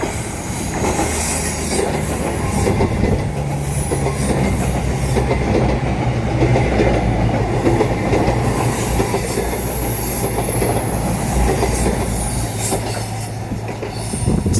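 A Class 43 high-speed train passes through Manors Station with a loud, sustained rumble, rhythmic clickety-clack of wheels over rail joints and some wheel squeal, with no voices.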